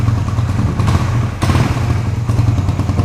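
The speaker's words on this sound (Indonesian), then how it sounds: "sekarang kita coba nyalakan lagi, nyalakan mesinnya ya" A Suzuki Satria FU motorcycle engine runs with a mid-pitched idle, broken by a sudden thump and clatter partway through before settling back to a steady chug.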